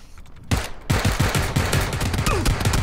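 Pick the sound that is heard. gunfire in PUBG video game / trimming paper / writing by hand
gunfire in PUBG video game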